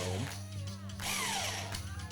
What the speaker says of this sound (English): we're just gonna slowly drill through the wood.